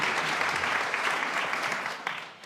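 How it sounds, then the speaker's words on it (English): An audience applauds at a community health and wellbeing night, steady dense clapping that holds fairly loud before tapering off near the end. "So give a round of applause to Aaron and Geevagh."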